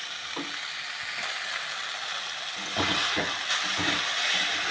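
Drumstick (sajna) flowers with a little sugar fry in a home kitchen pan, giving a steady close sizzle and hiss with a few soft stirring scrapes toward the end.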